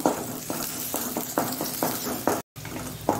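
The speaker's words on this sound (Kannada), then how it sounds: "ಇದರಲ್ಲಿ ಕಂದು ಕಲ್ಲರಿಗೆ ಬರಬೇಕು, ಅಷ್ಟು ತನಕ ಫ್ರೈ ಮಾಡಿಕೊಳ್ಬೇಕು ನಾವು." Chopped ingredients frying until brown for a restaurant-style palak corn gravy, a close steady sizzle broken by a repeated rhythmic scrape and clack of a spatula stirring in the pan.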